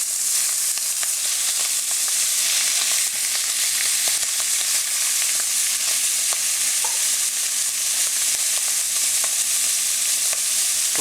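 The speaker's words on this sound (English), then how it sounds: "And to this I'm going to add the calamari." Calamari and shrimp frying in a pan for seafood risotto give a steady, close sizzle with bright crackling and occasional stirring scrapes throughout, with no talking.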